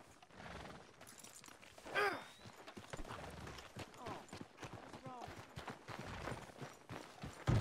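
Horse hooves clip-clopping at a walking pace in Red Dead Redemption 2, with a whinny, breathing snorts and game sounds, the hoofbeats irregular and at moderate distance.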